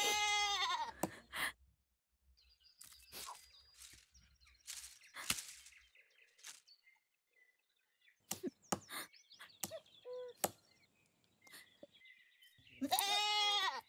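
Goats bleat loudly several times in a rural setting, wavering cries at the start and end, with scattered knocks, clatter and faint sounds between them in an otherwise quiet space.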